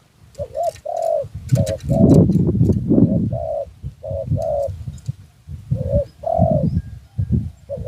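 A caged zebra dove used as a decoy gives loud, close, repeated cooing phrases in bursts with short pauses, over a rumbling low background of wind or handling noise outdoors.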